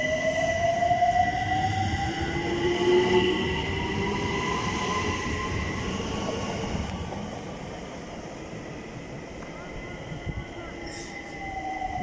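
A London Overground train pulls out of Hampstead Heath station, its rumble and rising wheel whine steady and fairly loud throughout, with a faint voice beneath the rail noise.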